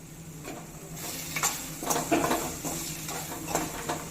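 Small onions, about 300 grams, sautéing in a pan with oil, giving a soft steady sizzle broken by repeated scraping and stirring knocks from a utensil against the pan, close up, with no talking.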